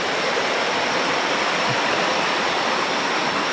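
A murky, muddy river at Gua Riam Macan rushes as a loud, dense, unbroken roar of flowing water, close and continuous, with no voices.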